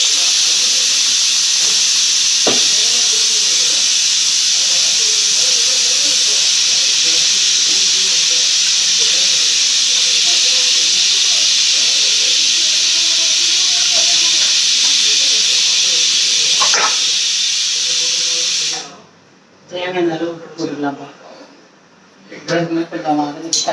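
A pressure cooker releases steam in a loud, continuous hiss for most of the stretch, then falls quiet as someone talks over the stovetop cooking.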